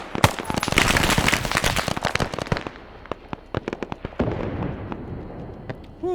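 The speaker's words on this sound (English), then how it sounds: "more explosions being heard" Explosions and gunfire in a military operation in a video game, with rapid bursts of sharp cracks and automatic fire, dense at first, then thinning into scattered pops and bangs, loud and close.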